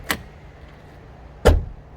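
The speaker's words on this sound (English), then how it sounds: "Let's do the passenger door." A car passenger door on an Austin Allegro slams shut with a solid, sturdy thud, heard up close; a lighter click of another door or latch comes just before, with no one talking.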